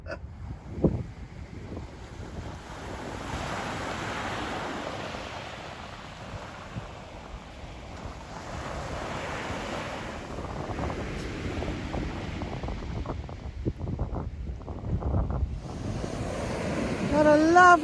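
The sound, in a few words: sea waves on the shore with wind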